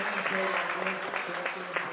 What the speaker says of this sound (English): give Will big applause